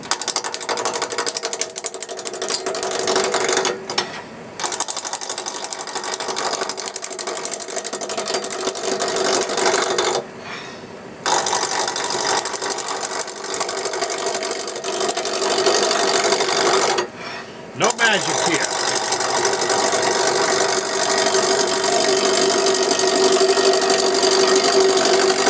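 A wood lathe spins a four-sided jar blank between centers at about 650 RPM while a roughing gouge cuts it, giving a steady, loud mechanical whir broken by several brief gaps.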